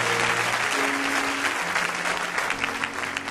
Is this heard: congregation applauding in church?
yes